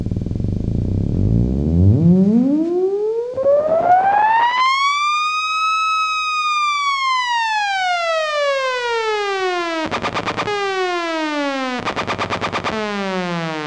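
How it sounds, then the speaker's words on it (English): A synthesizer sine wave modulates a complex waveform into a siren-like tone that sweeps up and slowly falls, loud and alone, with pulsing stuttered bursts breaking in near the end. "I could easily turn this into a siren if I wanted to."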